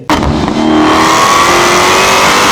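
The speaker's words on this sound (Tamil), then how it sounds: "dot challenger SRT Hellcat" A Dodge Challenger SRT Hellcat's supercharged engine revs hard and close, snapping to full volume and then holding a loud, rising roar with a climbing whine for over two seconds.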